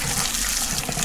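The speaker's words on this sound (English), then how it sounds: "Let me turn the water off." Water pours steadily from a tap or pipe after a fitting gives way, a loud, continuous rushing hiss that fills the whole moment with no voices over it.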